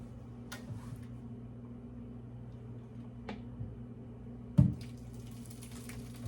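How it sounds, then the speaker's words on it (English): Cooked lentils being drained through a strainer at a kitchen sink: a steady, moderately close wash of pouring water with a few sharp clanks and one loud knock partway through. "I'm just draining the water out."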